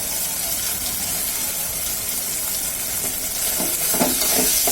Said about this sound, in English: stir this cured yogurt and all cheese